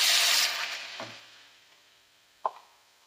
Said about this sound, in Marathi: आता हे वाटण ह्या तेलात परतून घ्यायचं